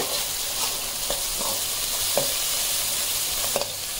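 Onions sizzle steadily in a hot pan with ginger garlic paste for a dhaba-style bhindi masala, broadband frying hiss throughout with a few soft stirring scrapes, close and alone without talk.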